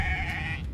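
A sheep bleats in the fantasy role-playing game Divinity: Original Sin 2, a single wavering, nasal cry held close and clear for most of the short moment, with no talk over it.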